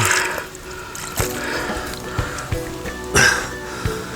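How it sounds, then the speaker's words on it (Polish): Water is poured over a freshly caught 13.5 kg carp at a gravel pit on a hot summer day. Close, uneven splashes and trickles come in several bursts, with a soft throat sound in between. "Jest ciepło, musimy polewać wodę"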